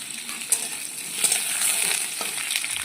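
Potatoes fry in hot oil tempered with spices, producing a close, bright sizzle with a few clattering stirs of a spatula in the pan.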